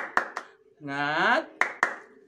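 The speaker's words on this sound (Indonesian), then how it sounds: "tepuk tangan yaitu tepuk semangat" A classroom group performs the tepuk semangat clap chant: two crisp, close hand claps, a single chanted voice in between, then two more claps in the same rhythm.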